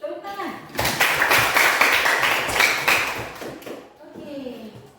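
A classroom of students claps together in a short, close burst of irregular hand claps lasting a few seconds, with a voice speaking just before and again after.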